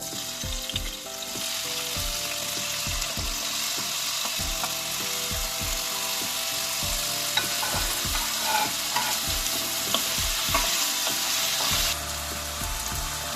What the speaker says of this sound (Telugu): ఆయిల్ వేడెక్కాక బంగాళదుంప ముక్కలు వేసుకొని ఫ్రై చేసుకుందామండి.